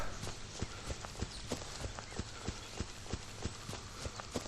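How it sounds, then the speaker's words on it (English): Phantom footsteps sound effect from the video game Miasmata, a steady series of soft, even steps with a hollow clopping quality, faint and regular throughout, heard alone with no talking. "That's simply the wacky sound effects in this game"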